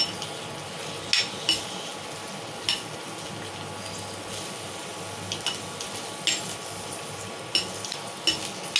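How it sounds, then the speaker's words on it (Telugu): Onions fry in a little oil for an egg masala curry, giving a continuous close sizzle broken by occasional sharp clinks and scrapes of a spoon or spatula against the pan. "ఇక ఉల్లిగడ్డలు వేసాయి కదా ఉల్లిగడ్డ వేయించుకోవాలి"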